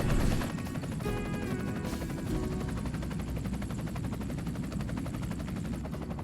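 Aircraft engine and rotor roar during a gentle descent over a snowy winter landscape, loud, steady and close throughout, with a rhythmic chopping pulse.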